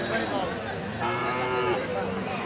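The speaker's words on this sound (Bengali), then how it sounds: "এগুলি একটু বড়, সাদা কালা পাখরা গরু" Cattle moo repeatedly at a weekly village cattle market, loud and close, with a drawn-out lowing call over constant crowd chatter and market bustle.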